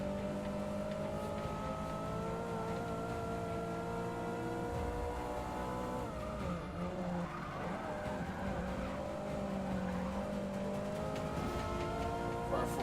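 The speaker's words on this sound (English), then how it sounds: "Up into 6th." Race car in Forza Motorsport 6 accelerating through the gears, a steady engine drone whose pitch climbs, drops at a shift around the middle and climbs again, with faint tire noise beneath.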